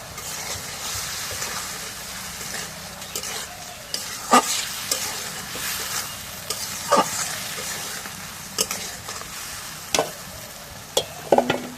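Spice paste frying in a pan as ingredients are tipped in, a continuous close sizzle with stirring scrapes and occasional sharp clinks of a utensil against the pan.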